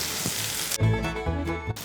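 Hot oil crackles and sizzles up close as chopped onions go in, a dense hiss at first, then softer frying with clinks and scraping as they are stirred.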